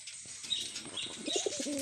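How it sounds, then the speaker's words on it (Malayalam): Cross-breed pigeons coo softly at close range, with a few short low throaty calls and faint higher chirps over a quiet background. "cross breed പ്രാവുകളാണ്"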